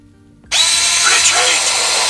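A Robosen Megatron auto-transforming robot toy drives along, its motors starting abruptly after a quiet moment and then holding a loud, steady, drill-like whir.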